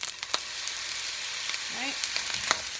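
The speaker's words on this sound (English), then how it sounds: "now you add your soy sauce" Soy sauce hitting hot fried rice in a pan gives a steady broad sizzle with a few sharp crackling pops, and a faint voice speaks briefly over it.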